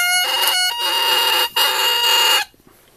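Bright, reedy crow of an oboe reed blown on its own, a buzzy squawking tone in three sustained bursts with short breaks, loud and close before cutting off.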